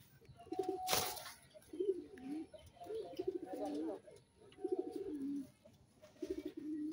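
Red and white Golla pigeons coo in repeated low, rolling phrases, nearby and moderately loud, with a sharp broadband burst near the start and faint voices underneath.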